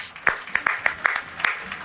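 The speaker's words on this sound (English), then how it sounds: "How about a round of applause for Two Dogs?" Audience applause at the Wisconsin State Fair, a crowd clapping steadily with distinct sharp claps in an irregular rhythm, fairly close and moderately loud, with faint voices mixed in.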